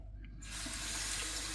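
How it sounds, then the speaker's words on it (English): Water running from a tap onto a Nakayama Maruka natural whetstone used for straight razor honing: a sudden steady gush of splashing water that starts after a brief quiet moment and continues, close and fairly loud. "I'm just going to load it up with water"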